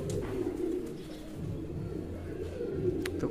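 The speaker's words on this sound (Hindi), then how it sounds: "तो कबूतर वैसे मेरे बाहर ही हैं," Soft, low pigeon cooing repeats steadily over a constant background hum, with no other distinct sounds.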